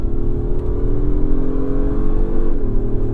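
Loud, steady engine drone of a 2025 Acura MDX Type S SUV accelerating through its 10-speed gearbox, its pitch climbing smoothly before dipping briefly as a gear changes, then continuing on.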